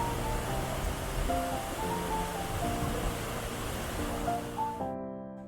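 Strong, clear water pours down the Curug Sawer waterfall near Situ Gunung in Sukabumi with a steady, dense hiss and roar, while soft music tones play over it until the end.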